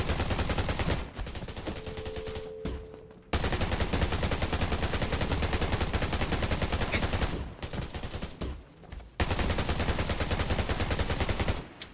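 Sustained machine-gun fire in the game Undawn: long, loud, continuous automatic bursts broken by two short pauses, then resuming at full intensity.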